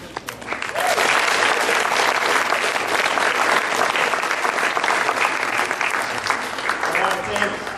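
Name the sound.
audience applause at an awards ceremony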